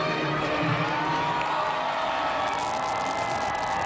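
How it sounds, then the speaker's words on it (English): A huge crowd cheers across the National Mall near the Washington Monument at Obama's presidential inauguration, a dense, steady roar of many voices that carries on without a break. "it is a huge, huge crowd"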